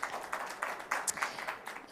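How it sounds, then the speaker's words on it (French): Audience applause at a French innovation awards ceremony breaks out for a winner in a brief, fairly faint burst of scattered clapping. "On peut applaudir Simonet pour ce magnifique."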